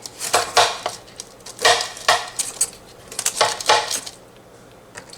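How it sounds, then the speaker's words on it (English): A knife runs around the sides of a dish of rigatoni baked in vodka sauce, giving several loud clinking metal-on-dish scrapes in short bursts with brief pauses between. "Let's get a knife and run it all the way through to release the sides."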